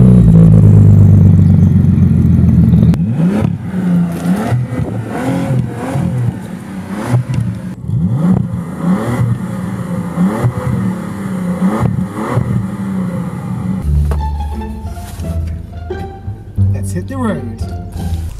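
A Bentley Continental GT drives on the road, its engine droning low, rising and falling through gear changes beneath steady cabin noise; a voice speaks over it partway through.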